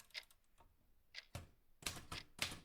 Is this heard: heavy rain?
no